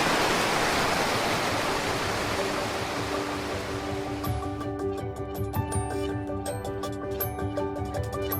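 Rushing water on the forest trail near Wapta Falls in British Columbia: a steady, loud broadband roar that fills the clip without a break, with faint tonal sounds surfacing over it in the second half.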